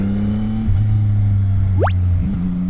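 A CFMOTO 675NK motorcycle engine holds a steady drone, then rises in a quick rev before a clean quick-shifter upshift drops it back to a lower hum, heard close.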